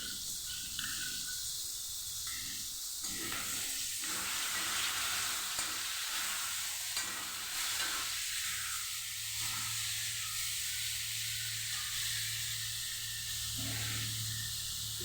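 Bitter gourd frying in a pan as yogurt whisked with Kashmiri chilli powder goes in, giving a steady broad sizzle with soft scraping and stirring throughout and a low hum beneath.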